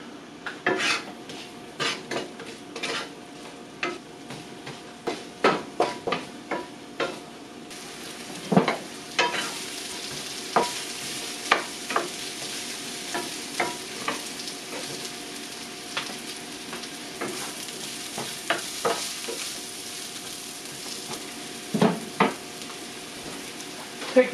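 Seasoned zucchini frying in a pan until lightly browned, a continuous sizzle broken by frequent clinks and scrapes of a utensil against the pan.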